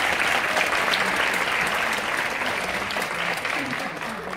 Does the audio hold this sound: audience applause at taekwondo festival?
yes